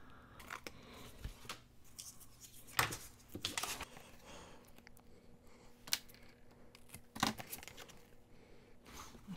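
Scissors trimming a paper craft tag, heard as faint, close snips and paper rustles scattered irregularly over a quiet room background, with no talking.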